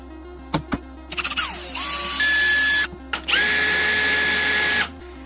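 Power drill boring holes into a small metal piece on a minibike rat-bike build, with short trigger blips, then two sustained whining runs whose pitch drops as the bit loads up, close and loud.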